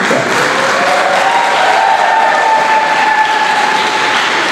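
Applause fills the hall at the South African Science Olympiads awards ceremony, a loud, dense, steady clapping from a crowd lasting the whole stretch.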